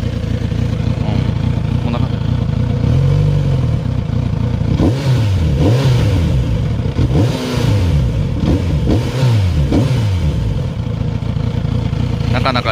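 A Kawasaki Z900RS motorcycle engine idles roughly, then revs up and down several times in loud, close bursts, with a sharp pop from the muffler near the end.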